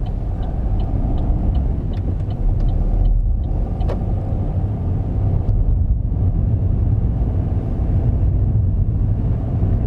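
Engine of a learner car pulling away from the side of the road during a driving lesson, a loud steady low rumble close to the microphone with a brief run of ticking indicator clicks early on, no speech.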